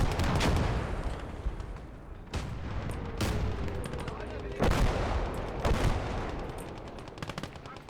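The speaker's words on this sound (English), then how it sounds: "let's start going with the preliminary bombardments" Preliminary artillery bombardment in the WWII strategy game Call to Arms: Gates of Hell, a dense barrage of booming impacts and rattling gunfire layered continuously, with heavier blasts punching through every second or so.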